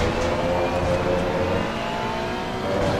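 A racing car engine in a racing video game chasing a white Ferrari, a loud, steady, high-revving drone held throughout with a faint whir and no talking.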